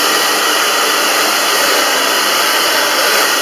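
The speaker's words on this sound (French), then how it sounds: "Donc vous allumez votre séchoir et vous faites sécher votre masque." A hair dryer runs steadily at close range while drying a fabric face mask, producing a loud, continuous airy whoosh that holds constant throughout with no talking.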